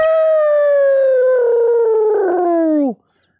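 A person imitates an angry howl: one loud, sustained wavering cry held for nearly three seconds, slowly sliding down in pitch before it cuts off into silence.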